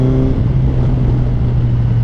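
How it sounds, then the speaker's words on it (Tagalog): Heavy trucks straining up an uphill road in slow traffic, a loud, steady low engine drone with a sustained deep hum, close by and continuous. "Hirap na hirap yung mga truck pagpaahon"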